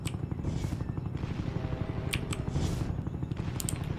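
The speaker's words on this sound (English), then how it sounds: "you can launch missiles out of it." A helicopter in Roblox Jailbreak fires missiles in a rapid stream of repeated thuds and bursts over the continuous chopping rotor drone, loud and close with no speech.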